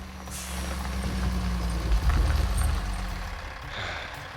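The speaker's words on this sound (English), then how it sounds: "A truck?" A truck sits under a continuous low engine rumble and lets out a loud air-brake hiss midway, followed by fainter hissing, heard fairly close with no speech.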